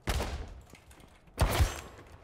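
Two pistol gunshots in the H1Z1 survival video game: a sharp shot at the start and a louder, closer crack with a heavy low thump about a second later, each trailing off quickly.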